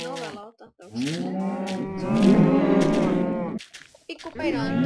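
Cows moo in a long, loud, drawn-out bellow that swells in the middle and dominates, preceded and followed by shorter lowing calls near the end, with no talk over it.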